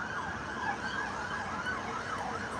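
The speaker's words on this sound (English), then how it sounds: "And I hear a siren here." An emergency vehicle siren wails outside on a street in Columbus, Ohio, its rising and falling tone fairly faint and distant over steady traffic noise.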